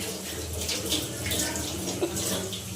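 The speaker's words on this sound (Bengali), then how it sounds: "তেলটা হালকা গরম হয়ে গেছে। এখন আমি অল্প করে পাকোড়াটা দিব।" Vegetable pakora batter, made with winter cabbage and mixed vegetables, frying in lightly heated oil, giving a steady close hiss and bubbling with crackling bursts throughout.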